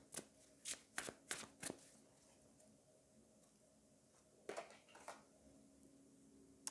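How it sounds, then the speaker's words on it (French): Tarot cards riffle and slap together in two short bursts of shuffling, close but soft, with a quiet pause between them. "j'aime beaucoup le bruit, mélanger ces cartes"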